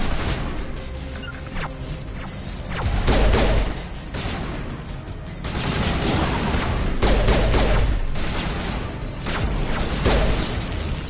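Loud, dense gunfire from the video game Mass Effect played on Insanity difficulty on PS5, with overlapping bursts, crashes and impacts that swell and ease across the stretch, with no voices.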